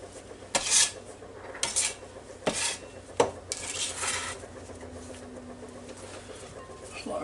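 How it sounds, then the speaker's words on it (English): Chopped celery and onions are scooped into a glass bowl, giving several sharp clinks and scrapes of utensil against glass spread over a few seconds, with quiet room tone between. "so I'm going to scoop his celery and onions up,"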